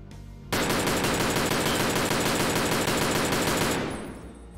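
An SVDS rifle with a high-ergonomics build fires in Escape From Tarkov, a loud, close, unbroken run of rapid shots lasting about three seconds, then a fading ring.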